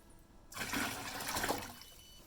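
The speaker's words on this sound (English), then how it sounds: "Okay, now let's add some water." Water is poured into a flood sensor container for an IoT flood alert system, a steady splashing gush that starts abruptly and continues close and moderately loud, with no talking.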